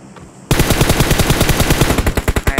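Sustained automatic gunfire in the mobile battle royale game PUBG Mobile, loud and close, starting abruptly after a quiet moment and continuing as a rapid, steady burst of shots with no pause.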